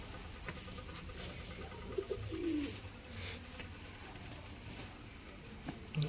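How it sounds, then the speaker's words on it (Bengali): Pigeons at a resort's outdoor animal area coo softly in a few short low calls around the middle, set against a steady background hum of ambient outdoor noise. "এখানে পায়রা আছে"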